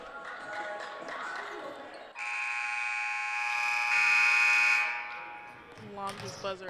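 A long, loud electronic buzzer in a volleyball arena blares steadily for about three seconds and swells louder before cutting off, with crowd noise and talk around it.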